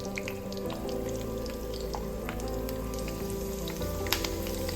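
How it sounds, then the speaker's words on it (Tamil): Chicken frying in hot oil in a home kitchen, a steady close sizzle that runs throughout without pause, with faint scattered crackles and a few small clinks over it. "அதை கொஞ்சம் அப்படியே பொரியட்டும்."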